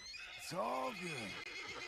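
Mustang horse in a video game letting out a single rising and falling whinny, about a second long and heard up close.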